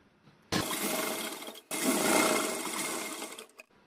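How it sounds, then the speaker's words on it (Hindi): A sewing machine stitches fabric into ruffles for a devotional deity outfit, two close bursts of steady whirring motor, the first about a second long and the second about two seconds, separated by a brief pause. "दोनों तरफ पहले हम सिलाई लगा लेते हैं।"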